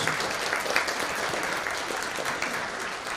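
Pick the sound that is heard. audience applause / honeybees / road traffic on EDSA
audience applause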